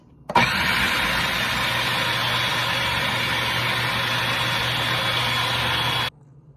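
A kitchen appliance, a food processor or blender, runs under its lid mixing flour into homemade pasta dough, a loud steady motor whir that starts abruptly and holds for about six seconds before cutting off, with no talking.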